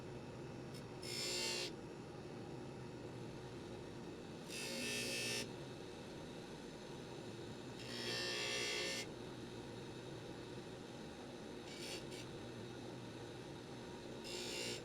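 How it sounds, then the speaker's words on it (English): A Scotch-Brite wheel polishes a formed metal bracelet in short bursts, four or so separate gritty hissing passes of about a second each against a low steady motor hum. "the Scotch-Brite wheel is really efficient at this"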